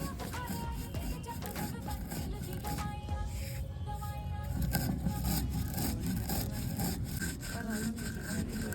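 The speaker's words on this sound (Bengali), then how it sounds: "ওটাকে কিন্তু আমরা শিলনোড়ায় গুঁড়ো করে নেব" Roasted whole spices, black and white mustard seed, pepper, fennel and ajwain, ground on a stone shil-nora, give a steady close rhythmic grating and rubbing, back and forth without pause, alone.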